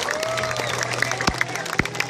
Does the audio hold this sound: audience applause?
yes